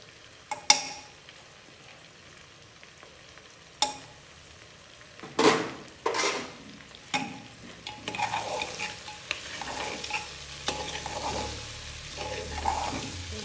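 Meat sizzling in a pan with spices being added for a Nepali meat dish, steady low frying hiss punctuated by a few sharp scrapes and clinks of a spoon stirring, close and moderately quiet.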